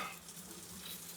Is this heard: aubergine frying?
yes